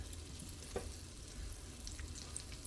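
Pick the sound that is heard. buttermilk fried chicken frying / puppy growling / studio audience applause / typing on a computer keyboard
buttermilk fried chicken frying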